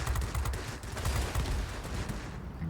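Aircraft machine guns firing in World of Warplanes, a continuous loud rattle of rapid shots from a fighter plane that runs nearly the whole time and fades at the very end, with no talking.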